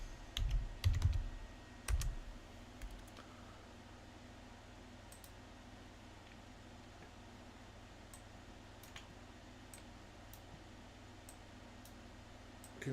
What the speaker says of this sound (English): Can you guys hear my mouse clicking?